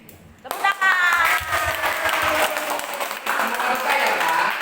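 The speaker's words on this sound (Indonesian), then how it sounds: "Tepuk tangan." A gathering at a Sunday morning church service bursts into applause after a short silence, a burst of clapping mixed with bright ringing tones that continues at a fairly even level.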